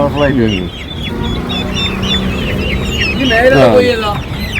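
Native chickens kept with Fayoumi and Gramapriya birds cluck loudly and close by, with overlapping bursts of calls and a busier flurry near the end over a steady poultry-yard background.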